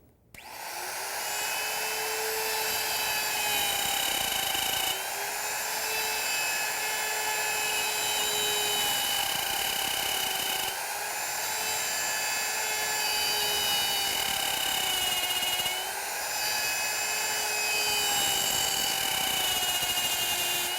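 A router cuts joints in wooden drawer parts, a loud, continuous high-pitched whine that holds steady for about twenty seconds, with slight dips in pitch as the bit passes through the wood.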